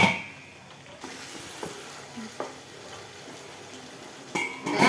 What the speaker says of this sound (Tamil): அதனால் அப்பப்போ மூடியை எடுத்துகிட்டு இப்படி கிண்டி விட்டுருங்க